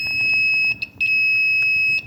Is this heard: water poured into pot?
no